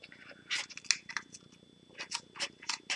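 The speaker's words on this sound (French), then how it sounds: "Je vais essayer de prendre les ciseaux." Scissors cut open a stubborn sticker album package, giving a run of crisp, close snips and plastic rustles in irregular bursts over a few seconds.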